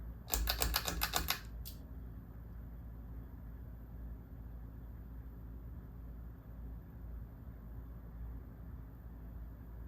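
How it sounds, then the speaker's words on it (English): A Neon Fan Company Delray chrome and plexiglass lighted 4-speed pull-chain ceiling fan runs on its slowest speed, giving a quiet, steady hum after a short burst of rapid clicking at the start. "This is a 4-speed pull chain ceiling fan. So let's start with the slowest speed."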